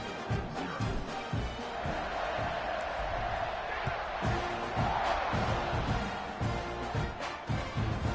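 A home stadium crowd in a college football video game, a constant loud roar with scattered cheers and whoops, heard under commentary.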